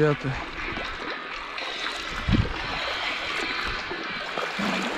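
Shallow river stream trickling and gurgling around an angler wading in during spring trout fishing, a steady close wash of water with occasional splashes.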